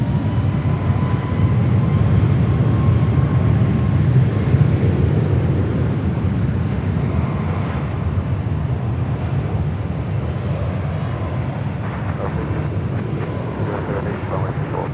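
A Southwest airliner takes off from runway 24 left at LAX, a broad, rumbling jet roar heard from a distance that swells early and slowly eases, with some wind noise on the microphone.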